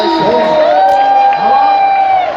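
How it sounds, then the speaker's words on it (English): A loud crowd at a Srimad Bhagavat Saptaha gathering in Kashinagar, West Bengal, raises a sustained cheer, with voices holding a drawn-out whooping tone close and strong, clapping not clearly distinguishable. "please clap for them also"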